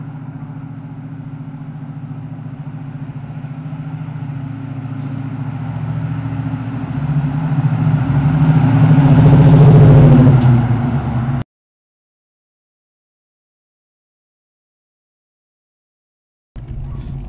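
A car drives up the road toward the listener, its engine note rising and growing louder as it nears and peaks close by before the sound cuts off, with a brief burst of engine at the very end.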